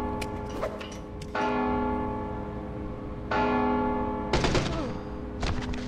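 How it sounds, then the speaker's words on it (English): A bell in the stealth video game Mark of the Ninja is struck repeatedly with a hammer, giving several loud metallic clangs that ring on between hits. "Stop hammering that bell."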